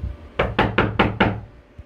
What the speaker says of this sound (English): Who knocks on the door so hard like that?